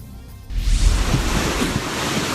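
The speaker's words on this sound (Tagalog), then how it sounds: "Ganyan kalakas ang ragasan ng baha sa Barangay Lumasal sa Maasim, Sarangani." Floodwater rushing through Barangay Lumasal in Maasim, Sarangani after heavy rain, a loud continuous roar of churning water that swells after a brief quieter start and holds steady, with no voices.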